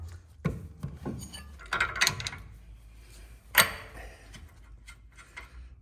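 A 22mm wrench works a tie rod nut on a steering setup, giving a few sharp metallic clicks and ratcheting ticks with scraping, spaced irregularly and fairly close.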